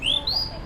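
A street vendor's small toy bird whistle beside Hoan Kiem Lake in Hanoi imitates birdsong with a bright, warbling chirp that rises and falls, heard close and alone over faint background noise.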